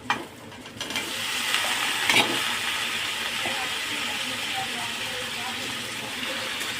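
Boiled potatoes frying in oil-released spice paste for a Kashmiri-style aloo dum with no onion or garlic, giving a steady broadband sizzle with a sharper scrape near the start, close and continuous.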